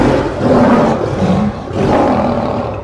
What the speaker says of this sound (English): But when the lion roars, the whole jungle hears.